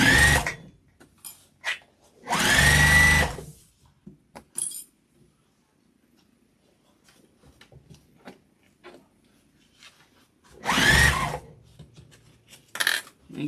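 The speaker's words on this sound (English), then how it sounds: "Now we're going to back stitch." A sewing machine back stitches a heavy vinyl and cotton tote bag in three short loud bursts, with light clicks and handling noises between them and no talking.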